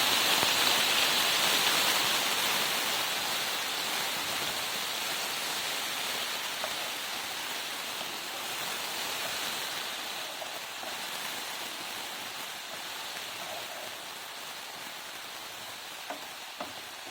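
Water splashes onto browned tantuni meat in a hot pan, producing a steady, loud hiss and sizzle that fades slightly over time, with no talking.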